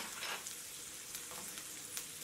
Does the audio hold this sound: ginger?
yes